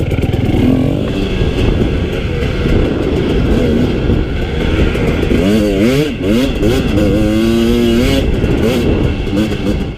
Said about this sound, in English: it's just fun to listen to the bike and know that you're cruising at like 45 miles an hour just blasting through whoops